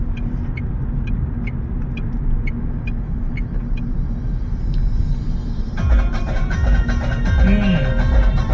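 Road traffic where large vehicles stop, heard as a constant low engine rumble with a steady drone of passing cars. Partway through, music rises and a vehicle tone shifts in pitch.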